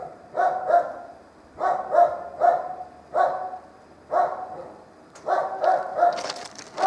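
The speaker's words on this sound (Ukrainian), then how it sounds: "Отой курва пес, що там гавкає, чуєте?" A dog barks repeatedly in short clusters of two or three, moderately distant, in an otherwise quiet outdoor setting.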